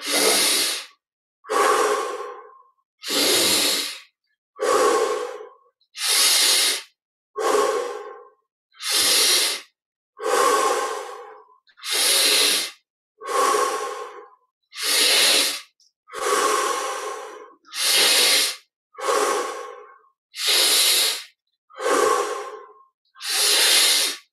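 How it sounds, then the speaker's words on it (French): Deep breaths drawn in through the nose and released through the mouth repeat in a slow, even rhythm of about fifteen full cycles during a guided meditation, close and clear with no talk. "20 respirations profondes. Inspire par le nez, expire par la bouche."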